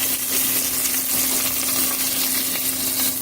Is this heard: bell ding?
no